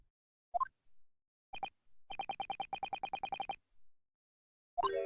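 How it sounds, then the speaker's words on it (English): Morse code beeps in The Great Ace Attorney Chronicles, a courtroom game: a few isolated tones, then a rapid, even string of short and longer electronic beeps, clear and alone against silence. "Morse code is a continuous series of 2 distinct tones."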